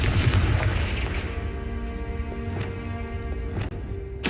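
Confringo fire spell explosions in Hogwarts Legacy: a deep boom opens, followed by a rumbling tail with sharper blasts and crackles, over a sustained musical drone.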